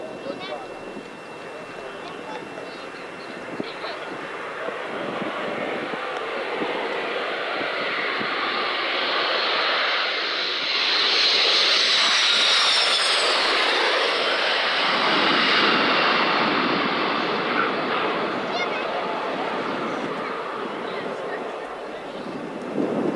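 An aircraft engine drones at the Yeovilton D-Day anniversary celebration. It holds steady and builds to a loud, close pass near the middle, then slowly fades, lasting the whole stretch with a faint whine riding on top.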